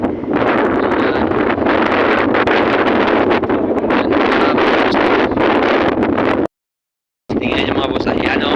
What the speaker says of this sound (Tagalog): grabing hangin dito